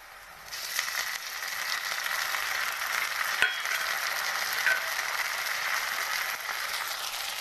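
Onion and tomato frying in a pan while being stirred, a steady soft sizzle with small scraping stirs on top, close and without talk.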